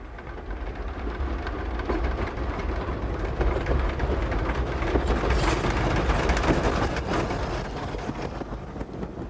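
LNWR North London Railway 0-6-0 steam tank engine running, a steady mid-level rail rumble with faint rhythmic clicking of wheels on track, swelling slightly toward the middle and easing off.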